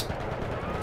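Video game gunfire crackles in a dense, rapid burst lasting under a second, close and fairly loud.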